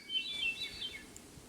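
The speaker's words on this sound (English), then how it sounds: "It sounds like a hermit thrush" A hermit thrush sings in a forest, a few thin, fluting whistled phrases sounding at a moderate distance over a quiet woodland background, with no voices.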